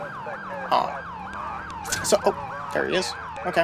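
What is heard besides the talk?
police siren in LCPDFR video game mod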